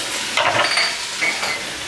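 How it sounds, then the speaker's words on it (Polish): Vegetables frying in a pot while being stirred, with onions caramelizing for a beef dish: a steady close sizzle with a couple of scraping strokes of a utensil across the pot bottom, no voices. "No i teraz pozostaje nam to wszystko smażyć, trochę mieszać"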